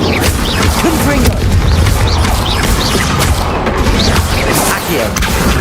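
The explosive Confringo spell cast repeatedly in Hogwarts Legacy gameplay, producing a dense, loud barrage of booming blasts and crashes with game voices mixed in.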